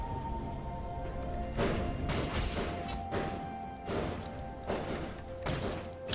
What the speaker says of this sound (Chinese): 外面已经放鞭炮了，放烟花了